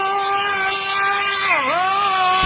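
A 1/2-inch flex head angled impact wrench spins freely, giving a loud, steady motor whine with a brief dip in pitch partway through before recovering, heard alone.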